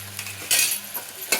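Roasted vegetables frying in a pan with ginger garlic paste for wheat rava pulao, a soft sizzle broken by a few quick scrapes of a stirring spoon against the pan.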